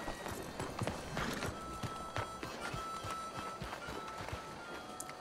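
Horse hooves in Red Dead Redemption 2 thud in a quiet, irregular patter on a farm, soft and fairly close, with a faint snort or whinny mixed in.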